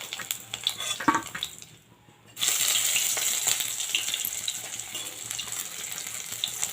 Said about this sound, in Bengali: বাকি যে পটলগুলো আছে এইভাবেই ভেজে নেবো সব।